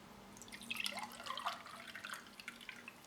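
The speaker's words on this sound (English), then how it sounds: "Let's pour some up straight away." A Tutti Frutti flavoured drink mixed from powder and water is poured into a glass: soft, close trickling and splashing with small drips, faint and continuous with no talking.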